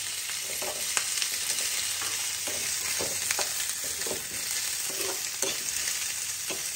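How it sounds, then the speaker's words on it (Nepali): Onion frying in a pan until lightly browned for a Nepali-style prawn curry: a steady, dense hiss of sizzling oil with occasional soft clicks of stirring, close and continuous, no talking. "र प्याज हल्का ब्राउन भइसम्म फ्राई गर्नुपर्छ।"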